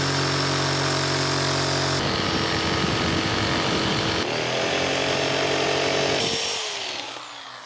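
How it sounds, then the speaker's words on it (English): A jigsaw rips steadily through plywood while cutting out a wooden arch backdrop, a loud continuous buzzing whine that shifts pitch as the cut changes and fades out as the blade stops. "Now it's time to jigsaw the arch."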